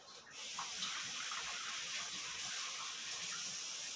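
A kitchen tap runs steadily for hand washing while making guacamole, a close continuous gush of water that starts almost at once and holds even for the whole stretch.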